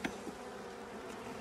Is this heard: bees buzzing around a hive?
yes